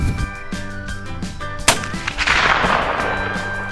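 A single sharp gunshot aimed at a metal target rings out outdoors, a loud crack after a stretch of steady background hum and followed by a long decaying roar.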